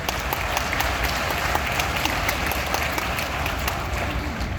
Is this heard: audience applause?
yes